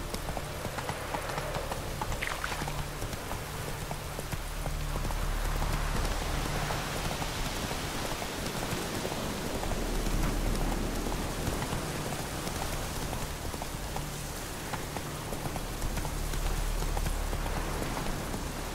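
Horse galloping through rain in The Witcher 3, steady rhythmic hoofbeats under a constant hiss of rainfall, close and continuous throughout.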